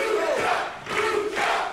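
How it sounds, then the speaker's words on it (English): A sold-out crowd at a professional wrestling match roars and cheers in loud, swelling waves, dense and continuous with rising surges of shouting. "Donnie getting the crowd behind him."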